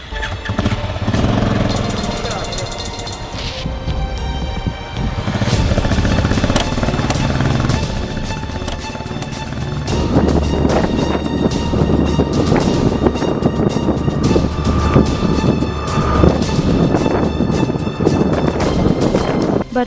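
A motorbike is ridden on a road near Chikmagalur, with its steady engine drone loud and close throughout and heavy wind buffeting the microphone.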